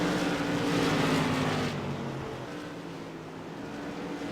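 Light modified race cars lap Irwindale Speedway in a CRA Modified Madness Tour event, a loud sustained engine roar with a rising whine that drops off midway as the cars pull away, steady and without talk.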